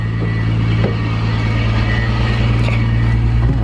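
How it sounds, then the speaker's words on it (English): A Nissan R32 GTR runs on a road test with a steady, loud low engine drone and constant road rumble heard from close by, without distinct revving. "It's going to take it for a quick road test."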